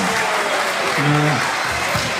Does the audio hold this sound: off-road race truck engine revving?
no